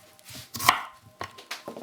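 A knife chops ginger on a cutting board in a home kitchen while pad thai with shrimp is prepared, giving several close, sharp, irregular thuds with no talking.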